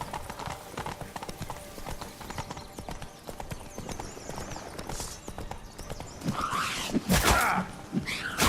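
Roach, the horse in The Witcher 3: Wild Hunt Blood and Wine, gallops in a rapid clatter of hooves that grows louder and busier toward the end, with a brief whinny and some faint background noise.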